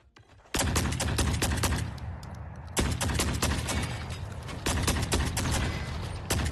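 Gunfire in the video game The Forever Winter: dense, continuous automatic bursts, loud and close, forming a sustained barrage of rapid shots with brief lulls, and no voices.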